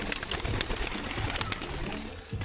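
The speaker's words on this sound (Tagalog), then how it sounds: "Yan na yung mga ibon." A flock of pigeons at a dam viewpoint, with soft cooing and bird calls faint under steady broadband wind-like outdoor noise.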